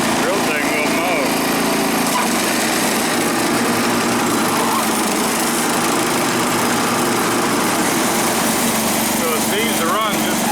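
A Wheel Horse 315 garden tractor engine runs steadily nearby, a buzzing small-engine drone with slight shifts in pitch and a rattly vibration throughout.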